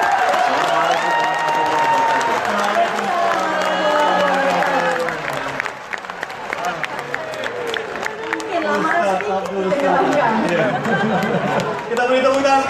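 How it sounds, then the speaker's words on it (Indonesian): A crowd applauds for Ustadz Abdul Somad at a public gathering. Scattered clapping and cheering rise and fall under a loud voice addressing the audience over a microphone. "Kita beri tepuk tangan sekali lagi untuk Ustaz Abdul Somad"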